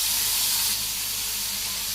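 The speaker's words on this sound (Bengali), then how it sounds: "ঢেঁড়সগুলো সুন্দর করে কষিয়ে নিচ্ছি" Cut okra sizzles in a little oil in a pan on a village kitchen stove, a loud steady hiss that dips slightly partway through and then carries on evenly.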